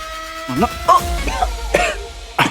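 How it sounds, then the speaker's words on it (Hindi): An elderly woman coughs in a rough, irregular series of about five bursts, close and fairly loud, with a steady faint hum in the background. "वो माता जी को अजीब तरह खांसी आती रहती है।"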